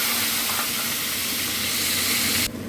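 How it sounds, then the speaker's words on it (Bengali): Onion, ginger, garlic and tomato paste frying with spices in a hot pan, a loud, dense, continuous sizzle and hiss that drops off abruptly near the end. "এবার আমি এই পেঁয়াজ, আদা, রসুন, টমেটো এটা হাফ ডাস্ট করে নিয়েছি। এটা দিয়ে কষে নেবো।"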